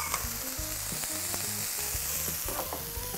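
Green apple and skinless bell pepper hit a hot pan and fry with a dense, continuous sizzle, punctuated by light utensil clicks and stirring taps close by, with no voices.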